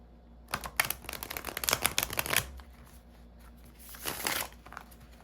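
Tarot cards are shuffled close up in two bursts of rapid riffling and flapping, a longer run followed by a short one after a pause, with no talk.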